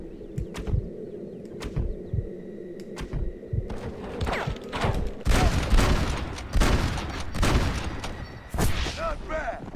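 Gunfire in the Western video game Red Dead Redemption: scattered sharp shots early, then a dense burst of loud overlapping gunshots and booms, with some voices talking amid the shooting.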